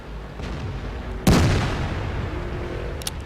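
An IS-7 heavy tank's main gun fires once in World of Tanks: a single sharp, booming blast that decays over about a second above a low background rumble.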